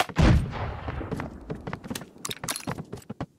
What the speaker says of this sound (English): We got a shotgun.